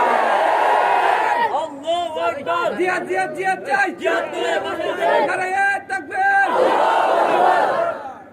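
Crowd at a sermon in Haluaghat, Munshirhat shouting the Nara-e-Takbir chant, a loud massed roar of many voices in rhythmic call-and-response bursts, rising and falling, close and echoing.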